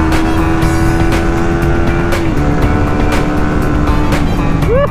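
Suzuki Raider 150 Fi underbone motorcycle engine while riding, a loud, steady, close-up drone with rushing wind that holds throughout.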